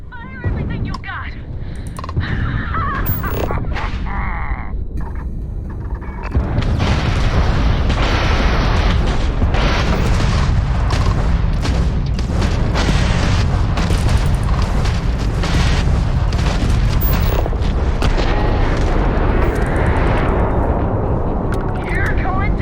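Weapons fire and explosions in a Starfield space battle, a dense loud barrage of booms and bursts that starts after a few seconds and continues, with game voices talking early on.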